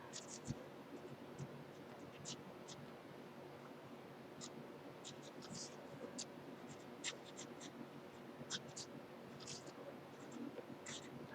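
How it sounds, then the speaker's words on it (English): Quiet, close scratchy strokes of coloring in leaves on an art canvas for a holiday greeting card, short irregular bursts of scribbling over a soft hiss, with no talking. "coloring in the leaves with the darker green"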